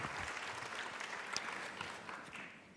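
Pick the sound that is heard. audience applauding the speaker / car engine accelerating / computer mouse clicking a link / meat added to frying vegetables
audience applauding the speaker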